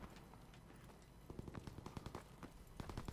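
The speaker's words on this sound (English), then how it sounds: "I haven't used a light machine gun yet." Light machine gun bursts in Call of Duty: WW2, a run of rapid close shots grouped in short volleys over a continuous battlefield din, no talk.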